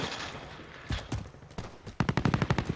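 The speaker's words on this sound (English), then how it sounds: "I'm getting shot from somewhere." Gunfire in the battle royale game Warzone, a few scattered shots followed by a rapid burst of about nine sharp cracks near the end, loud against background game noise with no talking.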